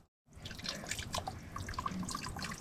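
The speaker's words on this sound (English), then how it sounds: "then you can focus the water enough to trickle" Water trickling and dripping off a leaf into a bag on the Appalachian Trail, a quiet steady patter of drops starting abruptly after a moment of silence.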